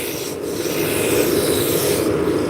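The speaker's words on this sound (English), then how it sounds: "Switch over to the spindle gouge." Spindle gouge cutting a wooden drop spindle on a lathe, a steady, close, continuous scraping and hissing rub with a slight swell in the middle, no talking.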